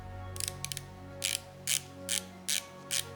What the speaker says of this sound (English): It has 120 clicks and this is how it sounds.